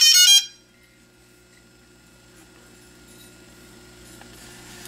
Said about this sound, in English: It did the first three beeps like that.